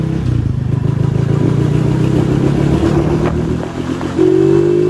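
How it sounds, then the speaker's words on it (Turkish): Kuba CG 100 R motorcycle engine heard while riding, a steady close low-pitched drone with a rising rev near the end, continuous and fairly loud with wind noise. "Ama motorun sesi arkadan güzel çıkıyor."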